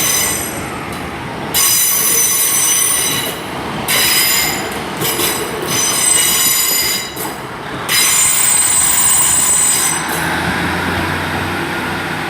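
A train departing platform 2 at Huddersfield station, loud high-pitched wheel squeal rising and fading in repeated waves over a rumbling rail noise, heard nearby with no voices.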